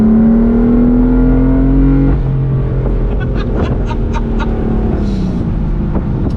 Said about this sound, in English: That exhaust, it just makes you giggle like a kid.